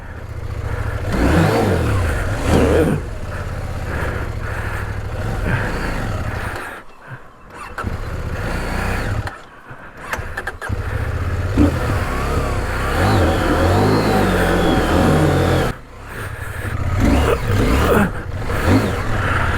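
A CF Moto 800MT Touring motorcycle engine, tall-geared and running hot, labours loudly up a steep off-road climb, droning and revving unevenly with a few short drops in power.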